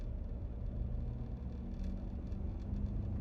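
A car drives along a road with a steady, heavy low rumble and road roar, loud and continuous from inside the cabin, with a faint whir on top and no talking. The car is being driven hot to check for a problem felt at the rear.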